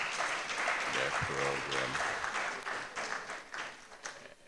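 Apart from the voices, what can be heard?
audience applause for the chair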